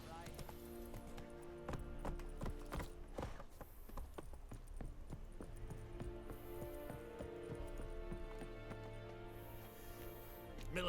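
In The Witcher 3, the horse Roach gallops with rapid, rhythmic hoofbeats that thud continuously under game music and occasional spoken dialogue.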